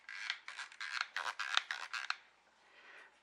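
The clicky aperture ring on a Sony FE compact lens mounted on an A7CR camera turns through a quick run of about a dozen small, crisp detent clicks, close and quiet, followed by near silence.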